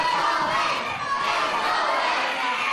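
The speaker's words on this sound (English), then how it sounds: "This crowd continually behind Sheamus O'Shaunessy" A wrestling crowd at an Irish Whip Wrestling show cheers and shouts steadily, a dense roar of many voices filling the hall with no pauses, loud and sustained throughout.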